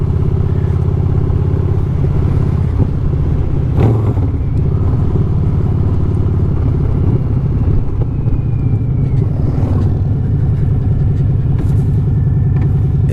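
A 2020 Harley-Davidson Fat Boy 114 motor running while riding through a residential area, a loud, steady low rumbling throb with a few brief mechanical clatters, heard alone without talk.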